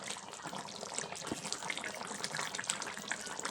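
Tamarind water poured into a simmering Kerala-style pumpkin theeyal, a faint, steady liquid splash and trickle held close for a few seconds.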